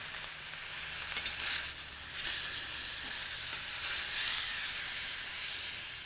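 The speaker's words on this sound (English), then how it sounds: "I just want to get that pepper all nice and, seared into the meat. And I'm using clarified butter right here on the ballistic griddle." A pepper-crusted steak sears in clarified butter on a griddle, giving a loud, continuous sizzle and hiss that swells and eases in waves, with no talking.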